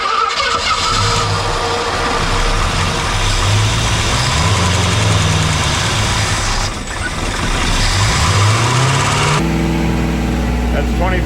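An AMC Hornet with a newly installed engine runs loud and steady at idle and then revs up during break-in, the tone rising and falling near the microphone while people talk over it.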